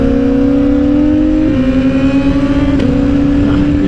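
A Suzuki GSX-R 750 sport motorcycle engine drones at high revs on a race track, a loud steady tone heard up close that dips in pitch twice as the bike shifts or eases off.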